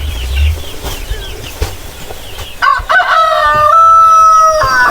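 Backyard chickens cluck nearby while a rooster crows loudly and close, with a brief flurry of flapping wings.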